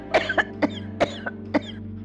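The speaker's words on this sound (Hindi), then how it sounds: "मेहमानों के सामने इस तरह खांसेंगी तो लोग क्या समझेंगे?" An elderly woman coughs repeatedly in a TV drama scene, four or five dry, hacking bursts spaced at a steady rhythm, close and fairly clear over a faint low hum.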